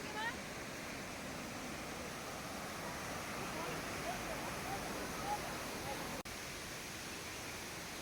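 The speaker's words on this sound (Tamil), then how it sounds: "அருவிக்கு பக்கத்தில் நம்ம போக போக அந்த அருவியுடைய சத்தம் கொஞ்சம் கொஞ்சமாக அதிகமாயிட்டு வருது" A steady, broadband roar of rushing water from Lakkam Waterfalls near Munnar fills the whole clip, constant and fairly close, with faint scattered bird chirps above it.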